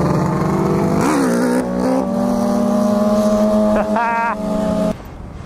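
A motorcycle engine running rough holds a steady, buzzing drone with pitch shifts and brief revs, mixed with wind noise.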